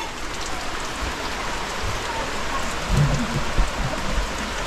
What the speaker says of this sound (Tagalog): grabe itong ulan na to